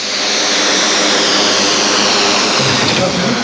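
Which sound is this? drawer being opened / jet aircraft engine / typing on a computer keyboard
jet aircraft engine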